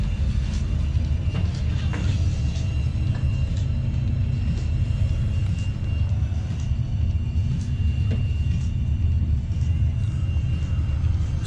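A big Cosworth-engined race car, a Denny Hulme Yardley McLaren, runs at Teretonga Park Raceway in Invercargill, a steady loud low engine roar droning continuously without break from start to finish.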